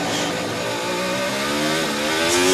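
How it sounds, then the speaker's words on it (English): A 2024 Formula 1 car running on soft compound tyres during Miami free practice screams past with a rising, high-pitched engine note that grows louder and climbs in pitch, heard alone without talk. "Sound of Sainz just threading his way through the middle sector on the soft compound tyre."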